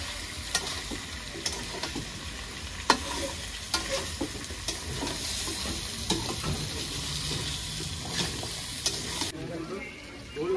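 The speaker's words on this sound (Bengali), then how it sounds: "মাংস আমাদের কষানো হয়ে গেছে" Pork meat sautés in a pan with a constant sizzle while a utensil stirs and scrapes it at irregular intervals, close and steady, the sizzle dropping briefly near the end.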